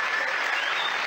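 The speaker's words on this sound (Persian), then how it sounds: "تشویق کنین مهمون عزیزم" Studio audience on a game show applauds a guest, a steady, dense wash of clapping filling the whole moment at even loudness.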